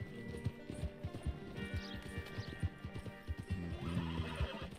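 A horse in Red Dead Redemption 2 clip-clops along at a close, steady gait, letting out a whinnying neigh partway through as the hoofbeats continue with no talk.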